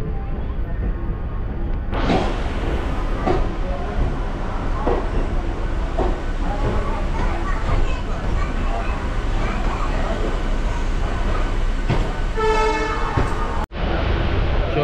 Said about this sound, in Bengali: 6টা 20 লোকালটা হাওড়া থেকে ছেড়ে দিল।